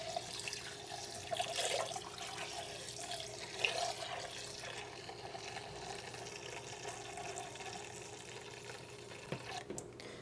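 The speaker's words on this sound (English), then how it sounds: "I'm gonna add a little bit more water in there now." Water runs quietly from a tap into a pot, a faint steady trickle with a few soft splashes.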